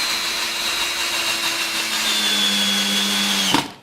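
A Ryobi 18V cordless drill drives a deck screw into wood with a steady, whining motor hum for about three and a half seconds, then stops abruptly with a short clunk.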